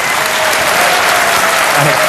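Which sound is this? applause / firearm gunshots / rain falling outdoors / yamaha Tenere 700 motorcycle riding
applause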